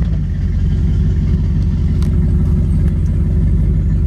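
Steady, loud and close, the engine of a 1933 Ford Roadster street rod drones along at a constant pace, with a faint clatter in the background and no talk.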